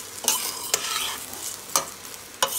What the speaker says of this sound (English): So we're gonna mix our lentils,